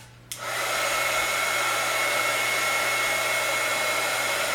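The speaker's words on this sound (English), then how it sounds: "I'm just going to take my heat gun here and just heat gun these up." A heat gun switches on with a brief click and then roars steadily, a loud, close, continuous blast of hot air aimed at coffee filter flowers, with no voices.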